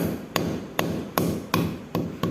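Close, sharp hammer strikes on wood while mounting a dart board on a wall, about six hits in a steady rhythm roughly every 0.4 seconds, each a loud crack with a brief ring.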